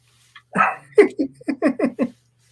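A dog barks from the bottom of the stairs indoors, giving one longer opening bark and then a run of about six short, fairly loud yelps in quick succession, with no voices over it.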